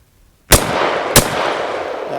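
Two sharp, loud rifle cracks about half a second apart, fired through a CAA MCK micro conversion kit at small steel gongs and a 2-liter bottle, each shot trailing off in a long, echoing tail.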